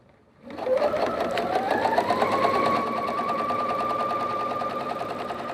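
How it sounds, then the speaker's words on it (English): A sewing machine runs steadily, sewing pocket facings onto jeans fronts with a regular 5/8 inch seam; the motor starts up, then holds a continuous, close, even hum with rapid needle rhythm and no talking. "So the first thing to do is to sew the pocket facings to the fronts."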